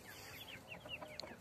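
Three-month-old desi hens cluck softly in a small backyard chicken farm, a few short clucks and chirps close by with no talk.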